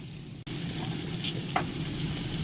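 Potato, pointed gourd, pumpkin and radish fry in oil with cumin or five-spice and chillies, making a soft, steady close sizzle with a couple of faint stirring clicks.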